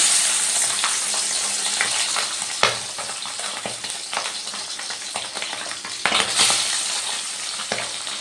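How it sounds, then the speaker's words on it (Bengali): Pabda fish, rubbed with salt and turmeric, frying in hot mustard oil in a wok, a steady close sizzle with sharp spitting pops and crackles that keep on throughout. "নুন হলুদ মেখে রাখা পাবদা মাছগুলো ভেজে নেবো"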